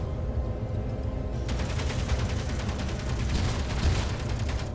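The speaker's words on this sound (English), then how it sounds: "What is shooting at me? There's a turret that can see me, I think." Enemy turret firing on the player in Space Engineers, with rapid repeated shots that start abruptly after a second of quiet and continue steadily over a low ambient rumble.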